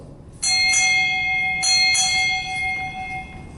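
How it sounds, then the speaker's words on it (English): Four strikes of a ship's bell ring out in two doubled pairs at a US Navy change of command ceremony at Naval Hospital Lemoore, bright and close, with a lingering ring fading over an open-air background. "Sound 4 bells."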